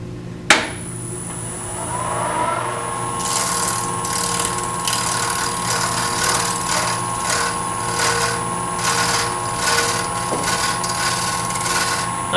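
A gouge cuts a miniature wooden vase spinning on a lathe, giving a steady mechanical whir and scraping hum with a sharp knock near the start, close and continuous without talk.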